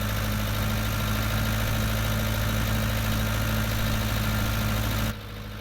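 An old, worn tractor idling in Farming Simulator 19, a steady low mechanical drone with a constant hum that runs evenly, then drops abruptly quieter near the end.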